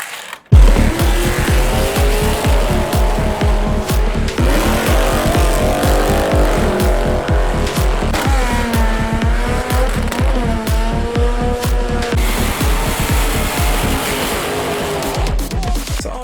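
Micro Machines toy cars racing on a drag strip, with continuous revving engine noise and repeated tire squeals throughout, loud and close, with no talking.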